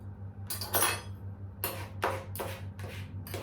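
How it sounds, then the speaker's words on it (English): A fork shredding cooked spinach, heard as a series of about six short scraping clinks of metal against a dish at an uneven rhythm, close by over a low steady hum. "Just going to use my fork to shred it."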